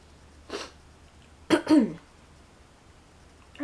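A person with a cold coughing: one short cough, then a quick pair of harsher throaty coughs about a second later, close and fairly loud in a quiet room.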